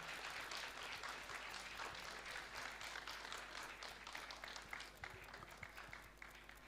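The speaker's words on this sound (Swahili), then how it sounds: "Tumpige makofi tafadhali" An audience applauds as a guest receives a gift at a charity event, sustained dense clapping from many hands that stays steady and then thins slightly toward the end.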